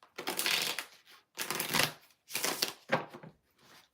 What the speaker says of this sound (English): We're going to do 6 shuffles, Kaiser.